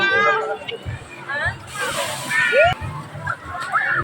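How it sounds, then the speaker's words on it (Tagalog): Children splashing and sloshing water in a kiddie pool during a summer swim, with repeated close splashes under excited voices and chatter. "tuwang-tuwa naman nga itong magpinsan sa kanilang pagtatampisaw dito sa tubig"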